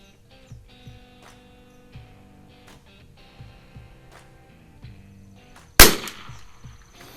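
A Winchester 52C .22 rifle with a Unertl 12x scope fires Norma Tac-22 ammunition, one sharp, loud crack near the end that rings briefly. Before it, soft low thumps and rustling sound quietly over a steady background hum.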